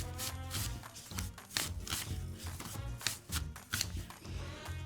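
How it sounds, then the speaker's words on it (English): Thin apple slices cut on a mandolin, repeated quick rasping swipes in an uneven rhythm, close and fairly loud with no talking. "I'm just gonna take this and cut kind of thin little pieces of apple on my mandolin."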